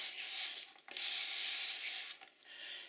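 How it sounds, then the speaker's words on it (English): Bursts of hissing aerosol fixative spray onto gouache on paper, two long sprays and a shorter one, close and steady, separated by brief pauses. "I'm just going to spray a little of the FinalFix on this area here"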